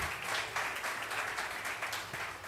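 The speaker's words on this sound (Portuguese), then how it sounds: "Pode dar um aplauso, ó." Church congregation applauding, a steady wash of clapping from many hands that holds at a moderate, slightly distant level without breaks.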